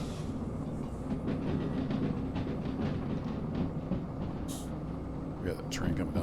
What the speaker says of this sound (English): We got a train coming down the hill